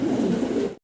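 Mundian fancy pigeon gives a short, low throaty coo, close and fairly loud, lasting under a second before cutting off.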